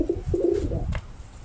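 Pigeons in a backyard give a short run of low, throaty coos, close and fairly clear, lasting only a moment.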